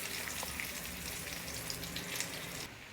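Surmai fish frying in hot oil, a soft continuous sizzle and crackle with scattered small pops, fairly quiet and steady, without speech.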